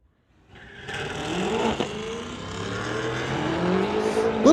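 A 1999 Chevy Camaro and a 2019 BMW launch in a drag race, engines revving and rising in pitch as they pull away, loud and close, with a brief tire squeal or chirp.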